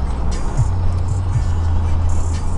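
A car rolls past on a small road near a junction, its low engine hum close and fairly loud, rising and shifting slightly as it goes by, with no talking.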